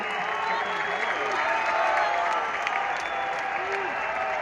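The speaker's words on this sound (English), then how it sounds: "give Turkey Al-Sheikh a hand and a round of applause" Sustained crowd applause fills a boxing press conference for Canelo vs Crawford, dense steady clapping with some cheering from a large audience, holding at an even level throughout.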